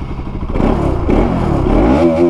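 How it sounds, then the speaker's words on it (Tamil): A Bajaj RS 200 motorcycle exhaust being revved, a loud close rattly engine note that climbs in pitch over a couple of seconds. "எக்ஸாஸ்ட் நோட் கேட்டு அப்படியே கிளம்பிடுவோம்"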